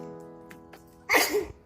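A single sharp sneeze bursts out after a quiet stretch with a faint background hum, close and fairly loud, trailing off within half a second.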